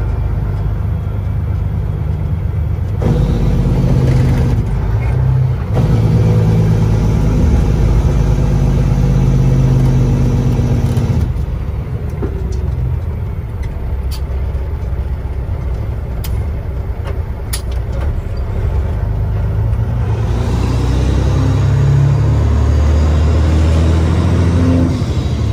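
A Kenworth W900L truck engine drones loudly and close while driving, a heavy low rumble that swells and eases through the run, with brief rises as the engine pulls harder.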